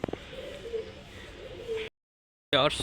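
A male white satinette pigeon coos softly and close in a low murmuring run, followed by a short silence and a louder burst.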